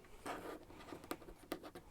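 A deck of tarot cards being shuffled by hand, giving a quiet, close run of soft papery pats and flicks in uneven bursts.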